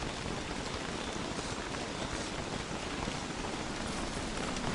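Rain in the video game Don't Starve, a dense, steady hiss of downpour that stays even and loud throughout with no other sounds.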